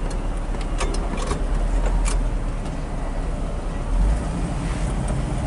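A 1961 Lincoln Continental Convertible reversing, heard as a steady low engine rumble with road and wind noise, a few light clicks, and a swell in engine sound toward the end.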